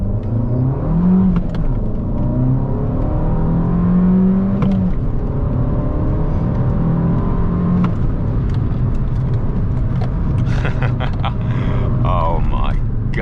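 An Abarth hatchback accelerates hard on the road, engine note climbing through the gears with whining rises and shifts, heard from inside the cabin amid road roar, with a person speaking briefly over it.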